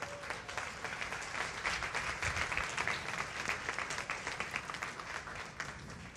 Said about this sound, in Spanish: Dele un aplauso a Dios por eso.